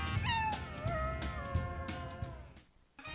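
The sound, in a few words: dog barking in a Subaru Forester advert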